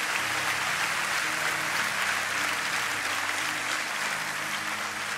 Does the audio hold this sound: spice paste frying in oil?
no